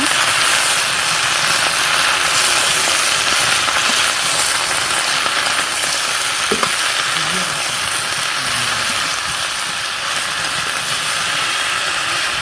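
Vegetables and spices fry in oil while a spatula stirs them, producing a loud, constant close-up sizzle with only faint scraping touches and no clear talk.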